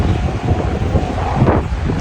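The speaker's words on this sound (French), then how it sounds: "Il y a un petit peu de vent là le matin." Steady morning wind blowing across the microphone outdoors in Paris, a continuous close rumbling buffet with no talk.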